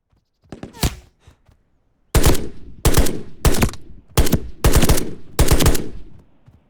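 Gunfire in short trigger-feathered bursts from a weapon in the shooter game Reaper Actual: a few faint shots, then six loud, sharp, evenly spaced bursts, close and without voices.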